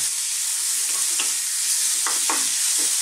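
Finely chopped red onions sizzle loudly in a hot pan, a steady broad hiss with a few sharp crackles and spits near the end, no talking.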